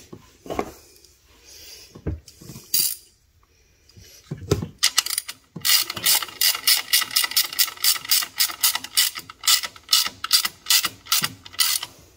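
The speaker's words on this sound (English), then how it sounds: "Don't torque it down too tight. Just get it good and snug because that's a copper post." A ratchet tightens the nut on the copper post of an alternator on a 2014 Silverado 1500 LT with a 4.3L V6. Scattered clicks and clunks give way to a fast, close run of ratcheting clicks.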